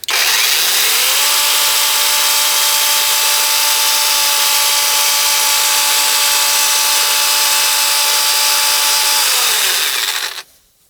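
A Lider Optimal cordless chainsaw spins up and runs unloaded with a loud, steady electric whine for about nine seconds, then winds down and cuts off.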